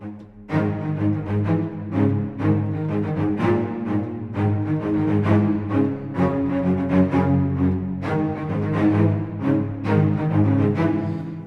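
An orchestral sample library recorded at AIR Lyndhurst Hall, a London scoring stage, plays a rich, sustained ensemble passage with steady harmonic chords and gentle rhythmic swells, full and resonant throughout with no talking.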